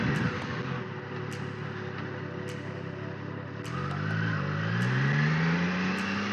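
Three-cylinder inline engine of a Triumph Daytona 660 sport motorcycle, still in its break-in period, pulls steadily and climbs in pitch as it accelerates, loud and close with a continuous droning tone throughout.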